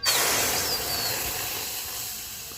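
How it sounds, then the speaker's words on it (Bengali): Neem leaf paste hits a hot wok on a wood-fired clay stove with a loud, sharp sizzle that settles into a steady, broad hiss lasting throughout, with no talk. "এবার এই নিম পাতার পেস্টটাকে আমি এই কড়াইয়ের মধ্যে ঢেলে নেব।"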